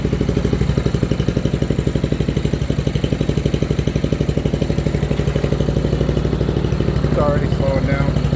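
Riding mower engine running at a steady, rapid putter, loud and close throughout with an even, regular rhythm and no breaks.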